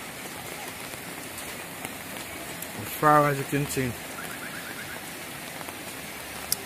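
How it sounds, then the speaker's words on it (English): Steady rain falls during flooding in St. Catherine, Jamaica, a continuous close hiss of drops hitting surfaces, with someone speaking briefly over it midway. "And it's still raining."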